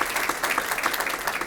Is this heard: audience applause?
yes